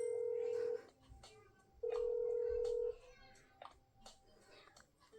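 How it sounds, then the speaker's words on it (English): A phone call placed in a teenage drama story game rings twice with long steady electronic tones, then cuts to a voicemail prompt, with faint background sounds between rings. "It rang a couple of times, then it went through the voicemail."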